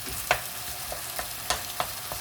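Sweet honey mushrooms are stir-fried with oyster sauce in a pan, giving a steady close sizzle broken by several sharp spatula scrapes and clinks at uneven intervals, with no talking.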